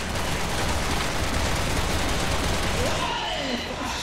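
Gunfire in the video game Resident Evil 6 fills the entire stretch as a loud, dense, unbroken barrage of shots. It never lets up and no one speaks over it.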